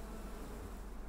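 Bees buzz at an urban beehive in a Berlin garden, a faint, continuous humming drone with no voices.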